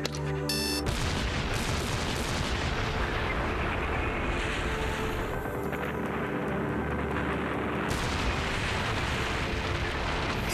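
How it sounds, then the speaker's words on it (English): Dynamite charges go off at each end of a river diversion channel during construction of the Itaipu Dam on the Parana River, a sustained heavy rumble of blast and debris that stays loud for the full length after an abrupt onset. "Dynamite charges are set at each end of the channel."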